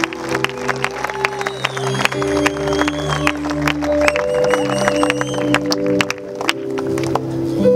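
A church congregation applauds, a dense wash of clapping and crowd noise under sustained musical tones from instruments playing along.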